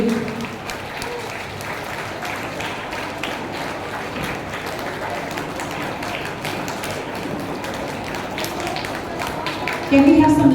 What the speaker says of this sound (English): Can we have some louder claps?